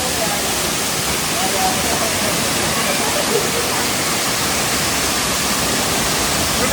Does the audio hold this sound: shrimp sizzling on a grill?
no